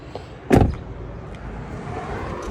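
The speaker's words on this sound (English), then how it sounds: "Sorry about all the noise, just up by the road, so that's why" Steady background road noise with a passing vehicle hum and one sharp thump near the start, no voices.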